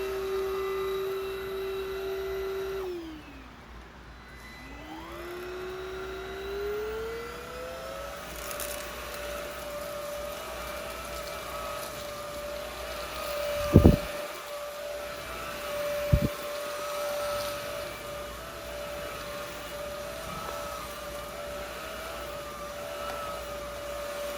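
A cheap stick vacuum cleaner from Amazon runs with a steady whining motor hum that drops and recovers in pitch early on, with a couple of sharp knocks later and no talk.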